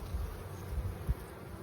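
Honey bees hum in a low, steady drone at an opened hive, close but fairly quiet, with a few louder buzzes as single bees pass nearby.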